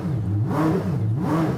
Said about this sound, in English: So first I will just blip a little bit to get a sense.